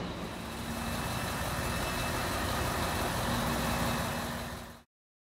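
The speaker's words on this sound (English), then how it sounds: "Squeezing this monster truck in this tiny driveway." A large delivery truck's engine rumbles steadily as it squeezes into a tiny, narrow residential driveway, a continuous loud drone that cuts off abruptly near the end.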